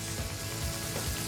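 Chicken stock pours into a hot frying pan holding chicken masala and sizzles, a steady broadband hiss with low bubbling that lasts throughout, close and moderately loud, with no talking.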